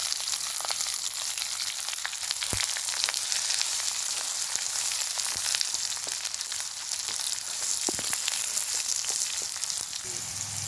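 Onions sizzle steadily in hot oil with spluttered mustard seeds and curry leaves for a bitter gourd fry, a dense close hiss dotted with sharp pops and crackles, with no talking.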